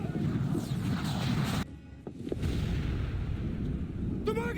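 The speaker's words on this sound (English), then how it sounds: "Man the cannons!" Ship cannon fire in the video game Assassin's Creed IV: Black Flag, deep booming blasts and rumbling impacts over a dense roar of battle, loud and close, with a brief drop before the din resumes.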